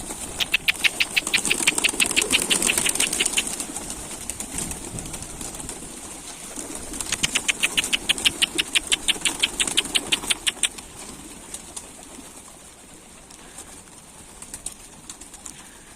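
Pigeons gathered on a rooftop, with bursts of rapid rhythmic flapping or fluttering in two stretches and low background rumble between them.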